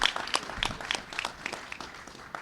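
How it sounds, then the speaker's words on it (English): Scattered applause from a small audience at a mayoral announcement hosted at a children's center, sparse individual claps in an uneven rhythm, fairly faint and with no talk over it. "let's give them a round of applause"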